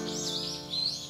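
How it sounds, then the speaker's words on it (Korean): Wild birds sing in a forested nature area on Jeju Island, giving a few high, bright chirps that rise and fall over a soft steady background, fairly close and with no talking. "아, 새소리 좋다."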